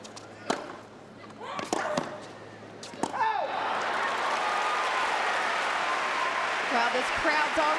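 A tennis crowd at the 2002 US Open women's final breaks into loud, sustained applause and cheering after a point, a broad steady roar lasting several seconds with a commentator talking over it.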